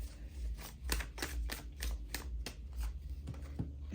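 Tarot cards shuffled by hand in a steady run of crisp, rhythmic riffles and snaps, close and fairly quiet, with no voices.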